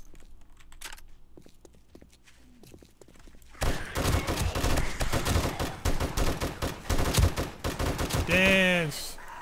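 Dense, rapid gunfire on horde night in the 7 Days to Die video game, played with the War3zuk mod, erupts suddenly after a quiet start and keeps up as loud, continuous bursts, with a brief voice near the end.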